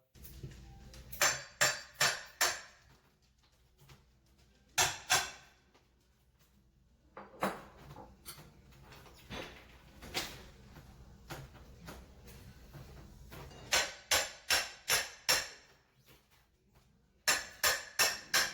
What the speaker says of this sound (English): the first thing that I had to do is remove the existing trim molding along the wall that I'm going to install the built-in on